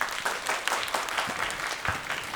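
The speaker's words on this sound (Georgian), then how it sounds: "აპლოდისმენტები" A comedy show audience applauds with brief, uneven clapping, a patter of hands that swells in a few small bursts over a short moment.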